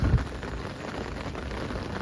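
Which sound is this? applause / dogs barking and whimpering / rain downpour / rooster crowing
rain downpour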